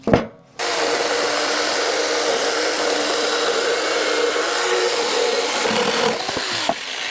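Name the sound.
Saker 6-inch mini electric saw cutting wood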